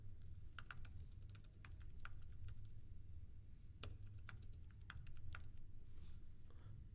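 Keys clatter on a computer keyboard as a search is typed, a quick irregular run of soft, close clicks over a low steady background hum.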